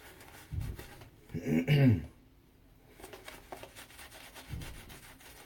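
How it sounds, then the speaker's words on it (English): A shaving brush works Mickey Lee Soap Works Agora Xyrisma shaving soap into a lather with soft, close rubbing and swishing strokes, including one louder burst of scrubbing, while someone talks quietly between the strokes. "the soap went right into this brush like it was nothing"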